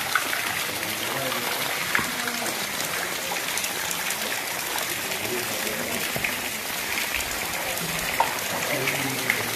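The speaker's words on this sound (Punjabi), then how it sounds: "ਮੀਂਹ ਤਾਂ ਵਧੀਆ ਪਈ ਜਾਂਦਾ ਇੱਥੇ" Steady rain falls over a village, a dense continuous hiss and patter that holds at an even level throughout, with no break or pause.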